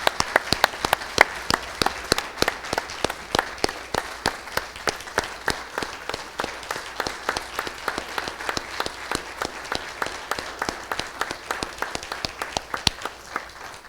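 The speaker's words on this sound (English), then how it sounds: "if we can give them a round of applause" A room at a board of education meeting breaks into sustained applause, many hands clapping steadily and fairly loudly for the full stretch with no voices on top.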